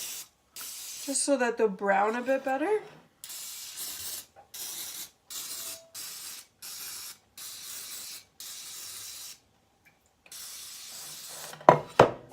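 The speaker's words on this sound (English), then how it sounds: "So now I just give them a slight spray on top of your pan" Pam cooking spray hisses onto a baking pan of cinnamon rolls in a home kitchen. A person speaks briefly before a string of about eight short, close spray bursts, each separated by a moment of silence.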